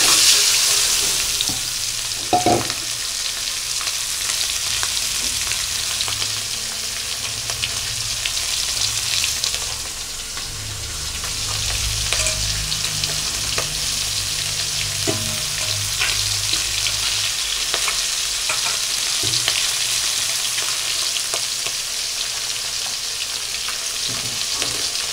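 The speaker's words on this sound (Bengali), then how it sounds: "তেলটা গরম হয়ে গেছে, এখন আমি ডিমগুলো ছেড়ে দেবো।" Eggs frying in hot oil for an egg curry, a steady close sizzle with crackling and a few stirring clinks, holding throughout with no talk.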